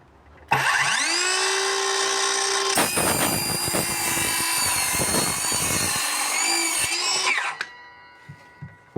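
An Einhell cordless circular saw spins up with a rising whine, then cuts for several seconds with a loud, rough, fluctuating buzz before winding down and stopping, heard close and without any talking.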